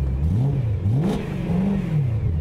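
A stock BMW M3 GTS engine is revved in quick blips, its close, loud note swelling and falling several times in a row with no talk over it.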